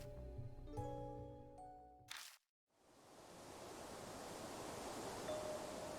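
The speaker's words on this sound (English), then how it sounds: "A wind blows and Kaguya suddenly vanishes" Wind blowing in the video game Spirit Hunter: NG, a steady, soft, hissing rush that rises gradually and continues alone after a tonal game sound cuts off into a brief silence.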